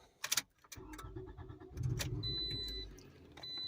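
A 2.4-liter front-wheel-drive Toyota RAV4 with a U241E automatic transmission starts up after a transmission filter service: early clicks and a key jingle, then the engine catches into a steady low idle, close by, with no talk.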